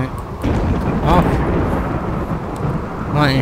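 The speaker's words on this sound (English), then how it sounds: "Lightning hitting the tower." Thunder rumbles loudly during a RimWorld thunderstorm as lightning strikes a tower, a deep continuous roll with brief voice-like sounds at moments.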